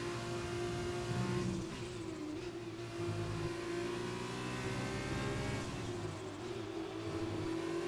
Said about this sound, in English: Man, the turbo in this car. You can hear it like...